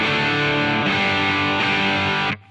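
Electric guitar through a T-Rex Mudhoney distortion pedal simulation in AmpliTube 5 at default settings, passive input with JFET circuit on: sustained, thick overdriven chords ringing loudly and alone, cutting off abruptly at the end.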